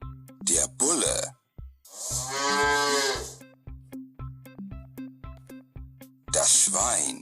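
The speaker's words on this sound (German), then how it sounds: "Der Bulle." A bull lets out a single deep, drawn-out moo at close range, rising over a rhythmic music bed, framed by brief spoken words at the start and end.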